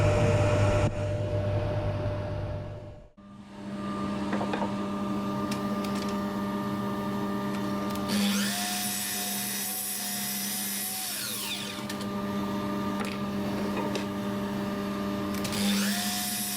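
Jarrah timber runs through a thicknesser, the machine holding a steady loud whine and hum with bursts of harsher cutting noise as boards feed through, interrupted by a short pause near the start.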